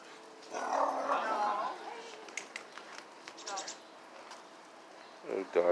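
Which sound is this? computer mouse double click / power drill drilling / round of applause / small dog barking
small dog barking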